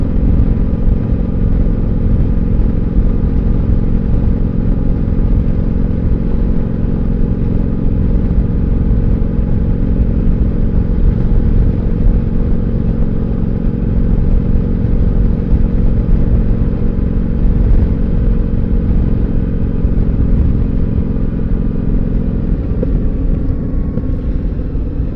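Yamaha V-Star 1100 cruiser motorcycle engine rumbling steadily while riding, a continuous loud low throb with road and wind noise, no voices.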